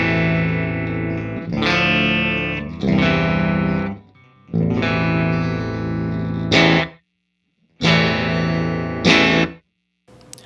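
Distorted electric guitar chords played through an amp impulse response blended with captured left and right room mics, ringing in sustained bursts separated by short silences, loud and close.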